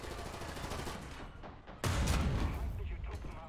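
A Swedish tank in War Thunder fires, giving a sudden booming blast that follows softer scattered gunfire and battle noise, all quiet and heard alone without talk.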